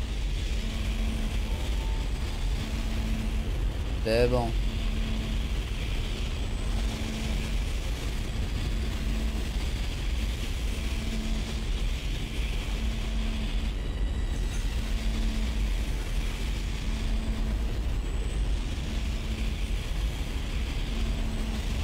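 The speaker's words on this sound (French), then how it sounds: "Allumage moteur." An engine in the Dead Space video game runs as a steady low hum with a faint, regular pulsing, plus a brief rising whine early on, and a voice speaks briefly.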